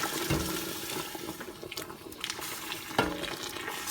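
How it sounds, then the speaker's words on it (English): Water pours and splashes steadily into a pot nearby, with a brief clank partway through and no voices. "Now I'm gonna add water."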